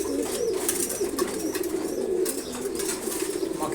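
Kashi pigeons feeding in a loft give a continuous low cooing murmur, close and even, with faint flutters and chirps mixed in.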